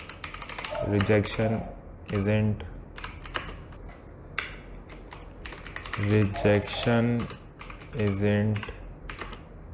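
Rapid bursts of typing on a computer keyboard, close and crisp, come in quick clusters between pauses while someone speaks Hindi over them.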